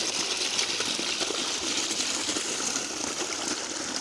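Irrigation water flows into a wheat field in a steady, continuous rushing gush with no pauses and no voices, loud and close throughout.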